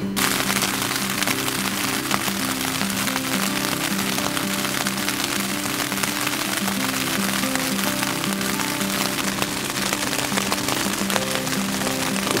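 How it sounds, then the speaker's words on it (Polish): Steady rain drums on a tent in the morning on a Grossglockner climb, a dense, even patter running on unbroken, with a low steady hum underneath. "Drugiego dnia rano obudził nas deszcz."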